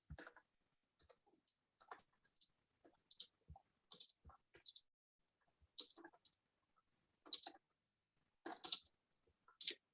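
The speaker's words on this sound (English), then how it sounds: "Sorry, I have to subject you to my typing, but bear with me." Typing on a computer keyboard: sparse, irregular bursts of soft clicks and taps, close and quiet against near silence, with no talk.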